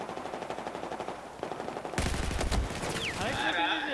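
Rapid bursts of video game gunfire crackle in quick succession, building into a dense volley with electronic effects trailing at the end.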